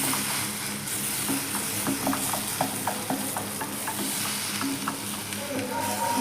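Leaves stir-fry in a pan with a continuous sizzle, broken by a regular series of spatula scrapes and taps. The sound is close and clear, with no one speaking.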